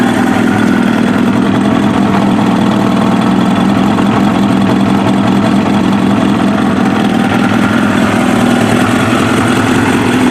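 A Kawasaki ZX7R motorcycle engine idling steadily at close range, a continuous low rumble with a fine, even pulsing and no voices.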